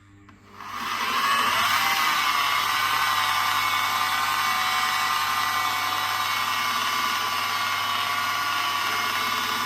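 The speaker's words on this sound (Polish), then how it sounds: "Ustawimy maszynę na początku na, na delikatne obroty, wiadomo, nie sobie rozmaruję. Potem ustawię troszkę większe i będziemy działać." Car polishing machine with a pad from a store, spinning up from low to higher speed: a steady high whine that ramps up in the first second, then holds loud and even, with no talk.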